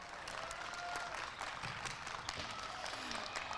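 Spectators at an indoor archery tournament finals applaud a competitor, steady clapping under a faint amplified announcer's voice and arena echo.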